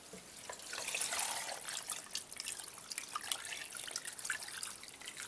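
Tap water runs and splashes into a cooking pot in a home kitchen, a soft irregular trickle with brief spattering bursts, fairly quiet and close, without talk.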